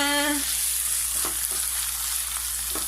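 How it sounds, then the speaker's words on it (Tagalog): Bitter melon (ampalaya) with egg frying in a pan gives a steady, close sizzle with a few soft stirring scrapes, and a brief tone sounds at the start. "Ani ko magluto sa akong ampalaya with egg."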